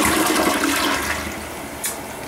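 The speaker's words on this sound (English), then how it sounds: "And it is a Gerber toilet. Let's take a flush, shall we?" A Gerber toilet flushes in a hotel bathroom: a loud, steady rush of water that slowly eases off, followed by a brief gurgle near the end, with no voices.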